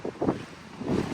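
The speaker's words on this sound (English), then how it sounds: "Getting windy again." Gusty wind blows outdoors during work on a Newmar Dutch Star motorhome, rumbling in low bursts that rise, drop away briefly and build again.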